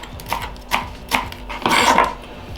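Fresh coriander is chopped with a knife on a board: three crisp separate cuts followed by a longer run of rapid chopping, close and clear.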